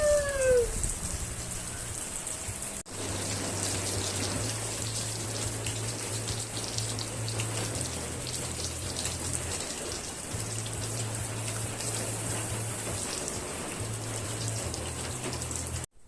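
Heavy rain falls steadily during a thunderstorm at a homestead in Portugal, a dense continuous hiss of drops on surfaces lasting throughout, loud and close, with a low intermittent hum beneath.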